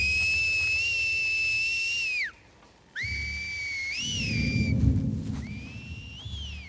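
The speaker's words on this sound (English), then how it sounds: "they communicate with each other with this really chilling set of whistles" Members of the Scars faction in a video game call to one another with eerie, sustained whistles that glide and fall in pitch, three calls separated by short gaps, over a low rumbling backdrop like distant thunder.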